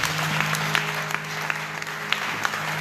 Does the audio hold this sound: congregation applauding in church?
yes